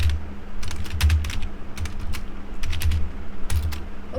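Fingers tapping out code on a computer keyboard, quick irregular bursts of clicky keystrokes with short pauses between words, close and clear with no talking.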